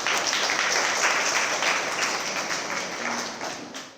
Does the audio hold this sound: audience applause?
yes